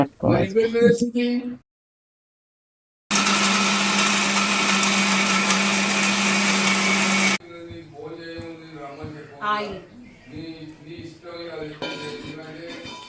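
Mixer grinder running loud and steady for about four seconds, grinding fried onion and tomato, between stretches of home kitchen talk.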